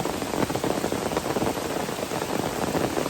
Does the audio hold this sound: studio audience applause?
no